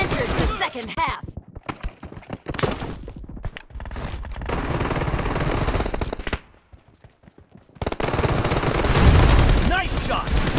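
Rapid bursts of automatic gunfire crackle in PUBG Domination mode, with loud clustered volleys, a short lull of near silence, then renewed heavy firing mixed with game voice callouts.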